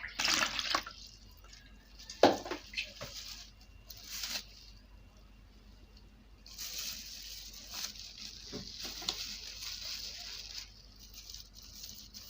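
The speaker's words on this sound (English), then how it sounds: "We add water." Water is poured into a homemade liquid soap mixture, giving soft splashing and trickling with a few sharper drips and pauses, close but fairly quiet.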